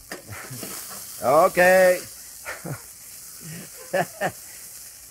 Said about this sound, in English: Now we're going to let that deglaze just a little bit.